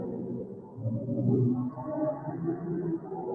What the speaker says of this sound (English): This is the sound of a black hole.